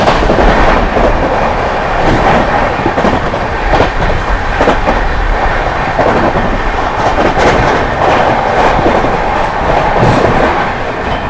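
Barauni–New Delhi Clone Express racing through Shikohabad Junction at high speed, a loud, steady roar of wheels and rushing air with rapid clickety-clack over rail joints throughout, heard from on board with no talk.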